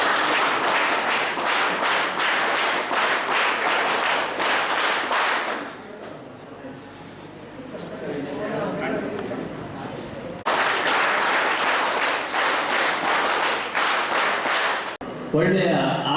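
An audience claps at a farewell ceremony for an alcohol de-addiction camp. Two loud bursts of steady, rhythmic clapping are separated by a quieter stretch with voices, and the applause breaks off abruptly near the end.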